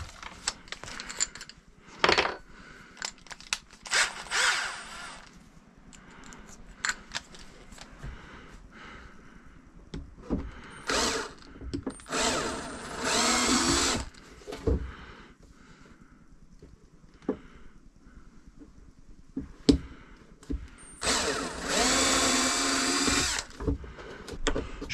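Power drill with a 3 mm bit boring holes through a polycarbonate RC car body for an XMAXX, delivered in several short bursts of whining, rasping drilling separated by quiet gaps, fairly close and loud.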